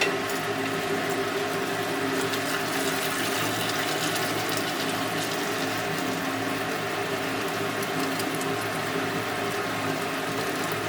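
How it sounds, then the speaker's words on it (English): Silver-laden solution pours steadily into a laboratory beaker, a continuous close, loud liquid rush with a rich splashing gurgle that holds even throughout, no voices. "I'm going to pour this solution off into this beaker here."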